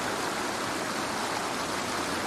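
Türisalu stream in Harjumaa, Estonia, fed from Tülinõmme lake and flowing toward the Türisalu waterfall on the coastal cliff: a steady, full rushing of water, constant and fairly loud with no pauses.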